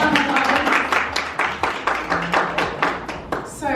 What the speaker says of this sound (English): Can we just give Yemi a round of applause, please?